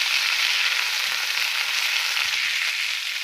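Tomatoes roasting in a pan for chutney give a steady, close, even sizzle with a bright hiss and faint stirring scrapes, and no voices.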